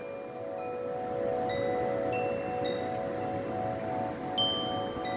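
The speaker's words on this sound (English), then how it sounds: "We got a little wind." Light wind blowing outdoors on a warm late-February day in North Carolina, a steady, soft rushing hiss with faint higher chirps scattered over it.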